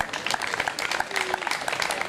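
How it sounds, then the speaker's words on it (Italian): Audience applause at an Italian bocce championship award ceremony at the Pedavena brewery, a steady wash of clapping from a crowd lasting throughout, with a faint background voice. "un applauso a loro."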